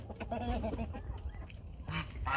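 Geese honking loudly and nearby, a few overlapping nasal calls in quick succession with a low background rumble.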